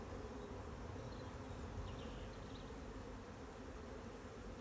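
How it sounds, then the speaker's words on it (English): Honeybees buzzing at a hive while foragers return, a faint, even, continuous hum with no pauses and no voices. "We've got loads of bees returning from forage"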